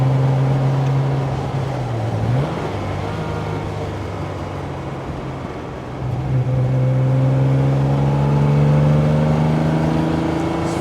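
A 1966 Maserati Mistral 4.0-liter coupe's engine pulls hard from inside the cabin, its droning note climbing through the gears with a shift or two breaking the rising tone, loud and steady.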